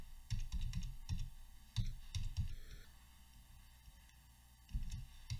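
Bursts of computer keyboard keystrokes come in quick clusters separated by short pauses, close and fairly quiet, with a faint steady hum underneath and no talking.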